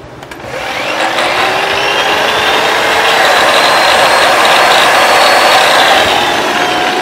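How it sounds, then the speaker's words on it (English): A large-motor electric grinder powered by an electric generator spins up and holds a loud, steady high whine with slowly drifting pitch, close and uninterrupted. "Now the same with the grinder."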